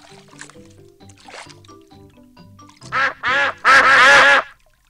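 Ducks in a Peppa Pig video game quack in a loud burst of three close, cartoonish quacks after soft background music.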